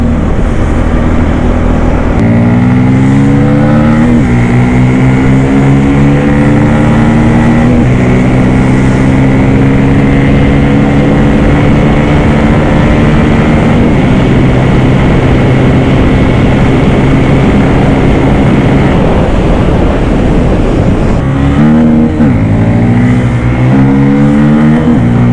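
A Bajaj Pulsar N250 motorcycle engine during a street ride, loud and continuous, its pitch climbing through gear changes with wind rush throughout and no speech.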